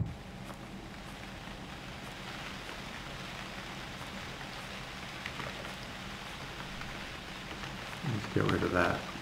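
Constant soft rain hiss in the survival game UnReal World, a low even patter throughout, with a voice breaking in near the end.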